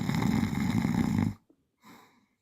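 A person imitates snoring with the voice: one long, loud, rough snore followed by a short gap and a softer second breath.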